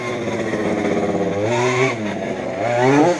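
A G320 RC car whines and revs steadily, its motor pitch rising and falling as the wheels spin on wet grass, loud and close throughout.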